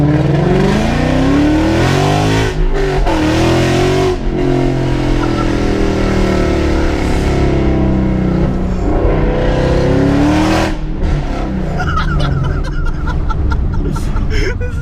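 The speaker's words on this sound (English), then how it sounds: "it's insanely loud. Like, it's just ridiculous how loud this is. I've never driven a louder car, honestly" A modded 2015 Ford Mustang GT roars while being driven, its V8 exhaust very loud and close, rising and falling through revs and gear changes in a sustained throaty drone, with faint talk inside the car.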